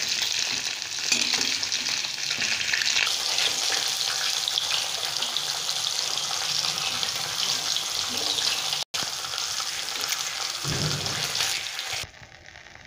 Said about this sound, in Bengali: বাকি মাছগুলো আমরা আস্তে আস্তে এবার ভেজে নেব।